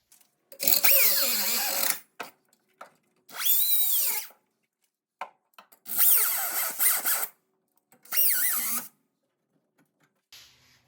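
Tack welds on a Codion kit roll cage in a Fox Body Mustang are cut away with a power cutting tool: four loud, whining bursts of a second or so each, separated by short silences.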